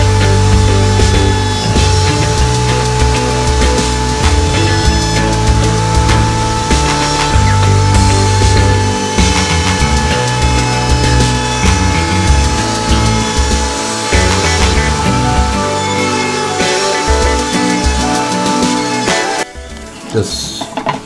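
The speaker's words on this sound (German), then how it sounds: "So jagen wir jetzt die Ecken einmal dran lang und dann die oberen Kanten fräsen wir da kurz an." A wood router mills the corners and top edges of a wooden Shut the Box dice game, a loud continuous motor roar with rough cutting texture that runs throughout and stops near the end.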